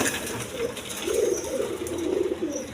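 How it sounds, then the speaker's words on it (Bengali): Two female Rajgolla pigeons coo softly and steadily at close range, a low rolling murmur repeating through a faint background hiss, with no talk. "এখানে 2টা মাদি কবুতর আছে, রাজগোল্লা মাদি কবুতর"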